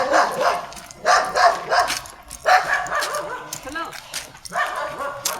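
A large dog barks in several loud bursts while being walked along a road, with people talking and calling out between the barks.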